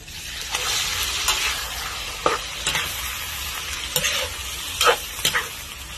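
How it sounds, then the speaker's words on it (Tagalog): Pork frying for Pampanga-style menudo with carrots and potatoes sizzles steadily as a soy sauce and calamansi marinade goes in, with intermittent stirring scrapes and clinks over the continuous hiss and no talking. "Lalagay ko na po itong mga marinade na toyo with kalamansi."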